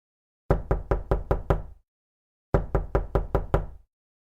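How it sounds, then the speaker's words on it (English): Two sharp bursts of knocking on a door, five or six evenly spaced raps in each, loud and close with a short pause between the sets and no talking. "Is that death knocking at our door?"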